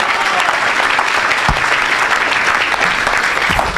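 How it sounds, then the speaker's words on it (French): A church crowd at an evangelical gathering applauding loudly and continuously, dense clapping and cheering filling the space with a few voices mixed in. "Acclame encore, acclame encore une fois de plus."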